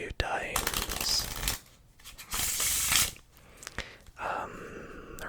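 Playing cards being riffle shuffled up close, a few bursts of fast rippling flutter separated by pauses and soft handling noises, with quiet voices whispering in between.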